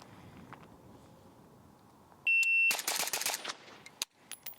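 A shot timer beeps, then a suppressed PSA Krink rifle fires a rapid string of five sharp, close rounds, with a final crack shortly after and no talk over the shooting.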